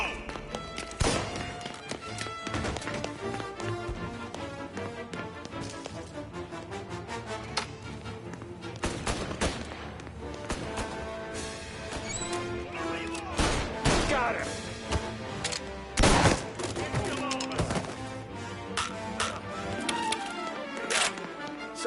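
Gunfire in the Mafia Definitive Edition video game, dense irregular bursts of sharp shots and impacts across a noisy battle scene, with voices shouting amid the constant racket.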